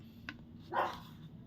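A dog barks a couple of times in the distance, faint against a steady low background hum.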